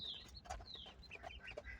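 Hens and roosters, some weighing about four kilograms, cluck softly at a poultry farm where the birds are recovering from illness. The short, quiet bursts come in quick succession.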